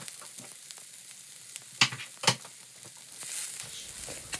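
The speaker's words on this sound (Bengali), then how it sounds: "তারপর ভাজা ভাজা হয়ে গেলে আমি এটা উঠিয়ে নিচ্ছি" Coriander leaves fry and sizzle in a pan, a steady hiss broken by a few sharp stirring clicks and scrapes, close and moderately loud with no voices.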